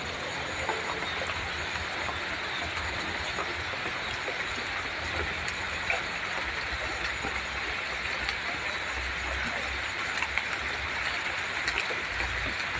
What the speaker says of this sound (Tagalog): Sana wag lumakas ang ulan kasi yung palay ko